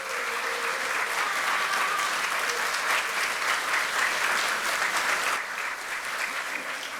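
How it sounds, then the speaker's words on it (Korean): Sustained, loud applause fills a hall as newly elected Democratic Party National Assembly members clap at their caucus meeting, a steady dense roar that dips slightly near the end. "여러분 뜨거운 축하와 그리고 역할의 박수 부탁드리겠습니다"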